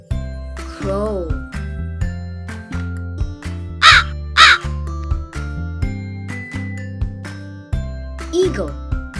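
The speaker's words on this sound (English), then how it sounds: "crow." Loud crow caws sound in two sharp bursts midway through, set among a string of clinking chimes and tones in a children's animal vocabulary sequence.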